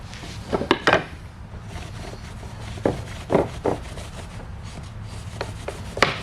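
Cloth rubbing finish into exposed wood with holes, heard as scattered soft scrubbing strokes, several louder swipes in bursts near the microphone against a low steady hum.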